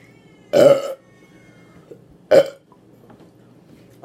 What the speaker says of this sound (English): I'm getting some good burp.